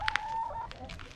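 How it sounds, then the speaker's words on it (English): Chickens cluck and make short squawks in a backyard, with a few close, sharp calls and a thin tonal note over faint background. "You watching your chickens?"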